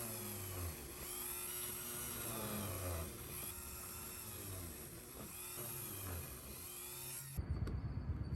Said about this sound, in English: I am going to drill down through here with tiny little Dremel drill bits